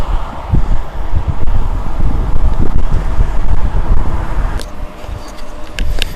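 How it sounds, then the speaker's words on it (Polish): Steady wind buffets the microphone with a continuous low rumble, blowing gently throughout with no voices. "jedynie delikatny wiatr"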